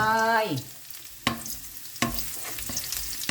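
Garlic tossed into a hot pan for a pork and vegetable stir-fry with cabbage, carrot and onion, a steady sizzle broken by a few sharp scraping stirs, close and alone.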